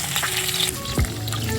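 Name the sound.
vegetables frying and being stirred in a pan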